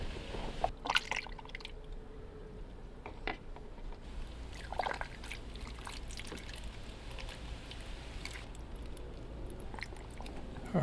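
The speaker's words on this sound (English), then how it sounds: "you can hear some bubbling. It's the air escaping from the other end" Air bubbling and gurgling out of the far end of a van's hot water heater return line as it is filled with water, heard as faint irregular drips and pops over a steady low background.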